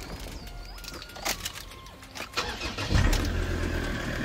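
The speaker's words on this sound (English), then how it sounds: "You want to see it running with the bonnet up." The 3.2 TDCI diesel engine of a 2019 Ford Ranger Wildtrak Auto cranks and fires up outdoors, settling into a steady idle, with birds chirping in the background before it starts.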